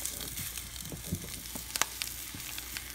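Eggs being scrambled in a hot pan give off a steady, close sizzle with soft crackles and a few sharp pops scattered throughout.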